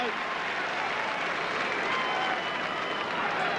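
A stadium crowd at an Australian football match between St Kilda and Richmond in 2003 applauds the player Coghlan, a steady wash of clapping and crowd noise with a commentator talking over it.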